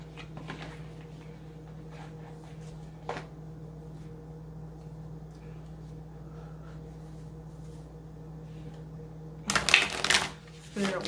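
Oracle of the Hidden Worlds oracle cards are shuffled by hand in a quiet room, faint soft riffling over a steady low hum, ending in a louder burst of brisk card shuffling; a voice speaks in the background.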